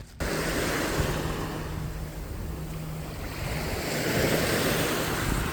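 Ocean waves wash steadily onto a beach in a broad, continuous roar with wind buffeting the microphone, loud and close throughout, with no voices.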